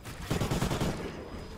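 Rapid automatic gunfire bursts out in Call of Duty: Ghosts Extinction as players shoot aliens, a dense rattle of shots lasting about a second over game ambience.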